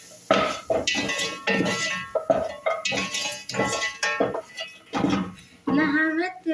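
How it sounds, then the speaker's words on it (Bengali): A utensil stirring lemon fish in a cooking pot, with scraping and clinking knocks in an irregular rhythm, heard close up under a person talking. "একটু নাড়াচাড়া করে নিলাম।"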